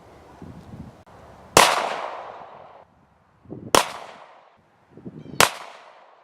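Three loud, sharp gunshots crack at an outdoor shooting range, spaced roughly two seconds apart, each followed by a short decaying echo, with faint low rustling between them.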